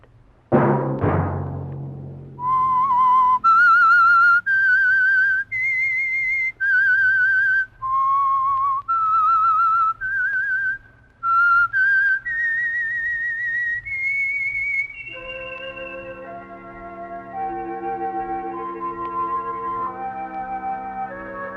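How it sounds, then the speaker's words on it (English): A person whistles the short signal tune of the radio drama The Whistler, a sequence of clear sustained notes, then a softer instrumental phrase carries on alone. "Let that whistle be your signal for the Whistler"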